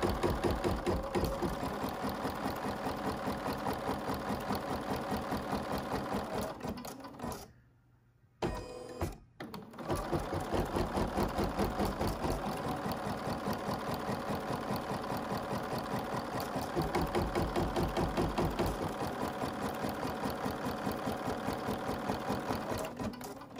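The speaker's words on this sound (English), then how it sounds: "it's going to do both of my basting stitches" An embroidery machine runs basting stitches through fabric on tearaway stabilizer, a rapid, even mechanical chatter that pauses briefly for about two seconds partway through, then resumes steadily and close.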